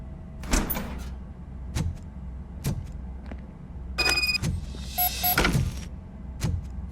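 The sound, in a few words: door opening in Robocop Rogue City video game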